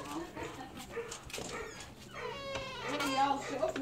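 A dog with cut ears yips and whines in short, high, strained bursts amid a person's talk, growing louder and more insistent toward the end.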